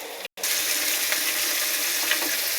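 A paste of ground onion, garlic, ginger and dried chili sizzles steadily in a hot pan, a dense continuous hiss broken by one brief dropout near the start, with no talking.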